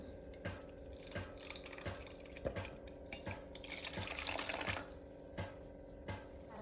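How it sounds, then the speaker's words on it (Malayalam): Thin coconut milk trickling and dripping into a pan for jackfruit payasam, with soft intermittent splashes and a brief steadier pour in the middle. "മൂന്നാം പാലാണ് ആദ്യം ഒഴിക്കുക."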